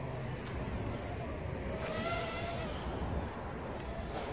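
A Top Race TR-D4 Dragon drone flying outdoors at full throttle in high wind, a faint whirring buzz half-buried under rough, steady wind noise.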